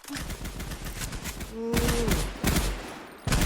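Rapid automatic gunfire rattles in a Minecraft game during a boss fight, a dense burst of shots that pauses briefly and then resumes, loud and close with no speech over it.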